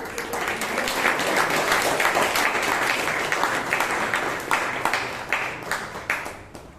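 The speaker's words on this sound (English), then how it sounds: "Let's give a huge round of applause to all the speakers." Audience at a Toastmasters club meeting in Bangalore applauds the speakers with a steady, full round of clapping that holds for several seconds, then thins out toward the end.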